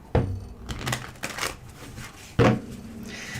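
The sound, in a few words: shuffling tarot cards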